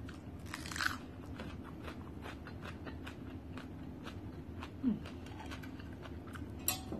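Someone bites and chews a crunchy corn salad with fresh shrimp, giving soft close crunches and mouth sounds with a few sharper bites, quiet against faint background noise.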